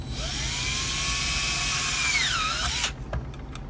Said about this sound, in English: pull the drill bit back out while it's still spinning